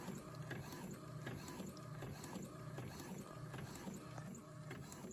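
An Epson EcoTank printer running a print job, a steady mechanical whir with rhythmic ratcheting clicks and gear noise, quiet and continuous throughout with no talking.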